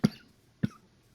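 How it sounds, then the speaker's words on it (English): Two short, sharp coughs about half a second apart, close to the microphone, with quiet pauses around them. "Excuse the cough."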